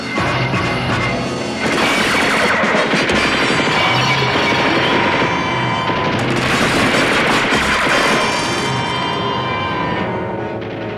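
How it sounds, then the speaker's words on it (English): A loud, chaotic burst of multiple gunshots and crashing impacts fills the scene, with dense overlapping bangs that continue for several seconds. "Reporting multiple gunshots, vicinity 700 blocks South Remington"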